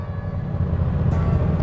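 A stock Yamaha FZ stunt motorcycle engine idling, a low, rough, pulsing rumble that stays steady and fairly close.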